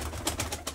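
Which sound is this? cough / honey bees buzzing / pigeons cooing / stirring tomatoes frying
pigeons cooing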